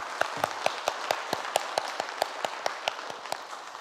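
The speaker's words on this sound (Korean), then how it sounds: "우리 다시 한번 환영의 박수 하겠습니다." A church congregation claps in welcome during a Sunday service, producing steady rhythmic handclaps in unison that fill the room with evenly spaced beats.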